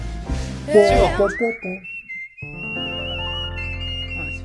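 A person whistles a tune at close range, first in quick sliding notes and then in one long held, wavering high note, with a brief voice or noise at the start.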